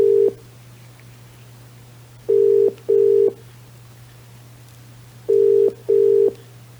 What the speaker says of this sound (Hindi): एक बार फिर से कॉल जा रहा है।